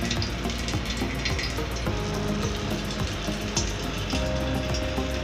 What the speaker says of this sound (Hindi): आप देख सकते हैं इसमें से पानी निकल रहा है लौकी में से